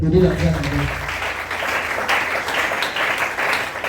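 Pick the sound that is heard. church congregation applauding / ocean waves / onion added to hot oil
church congregation applauding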